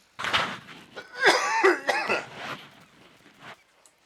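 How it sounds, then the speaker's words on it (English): A short burst of coughing and throat clearing, close and fairly loud, a few rough hacks over about three seconds with no talking. "I'm gonna cough real quick"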